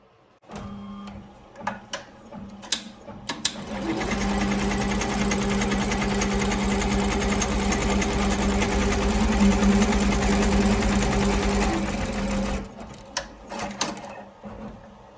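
An embroidery sewing machine stitches a yarn design: after a few handling clicks, a loud, steady mechanical whirr with a rapid needle rhythm runs for about eight seconds, then stops, and more clicks follow.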